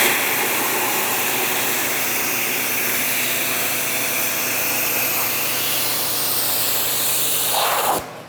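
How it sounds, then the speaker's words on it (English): A pressure washer sprays into the engine bay of an abandoned DeLorean, a loud steady hissing rush of water that runs close and unbroken before cutting off at the end. "Pressure washer time."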